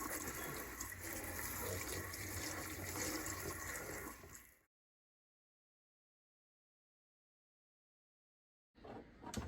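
Tap water runs steadily to wash dirt and pebbles off vegetables in a home kitchen, a constant close rush that cuts off abruptly, leaving several seconds of silence before it resumes briefly.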